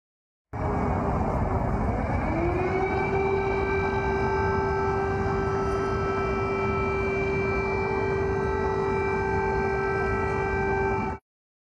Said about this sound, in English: Here was an air raid siren heard just earlier today.